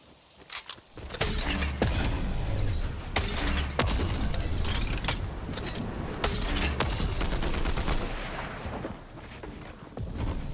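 Assault rifle fire from a Combat Assault Rifle in a shooter video game, loud close bursts of rapid shots with sharp cracks and impacts, separated by brief pauses.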